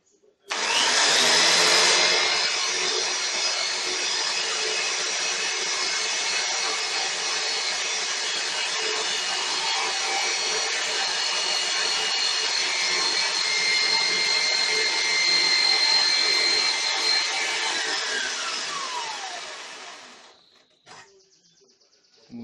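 A loud electric drill whirs steadily for about twenty seconds while boring a used nail shank to make an arrowhead, its pitch sagging slightly before it winds down and stops.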